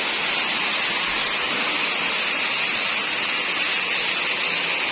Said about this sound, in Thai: ตกลงมาจากถ้ำ เป็นน้ำตกอยู่ในถ้ำนะคะ